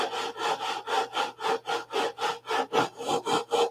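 Sandpaper scrubbing back and forth on a brass tube in a woodworking shop, about eleven steady rhythmic strokes at an even pace, close and moderately loud, with no voices.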